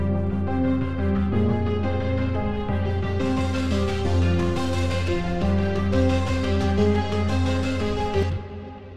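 Trailer music track section with drums, trombones and a filtered bass pulse, a full, dense orchestral mix with sustained brass chords over a steady low pulse, loud and continuous before cutting off at the end.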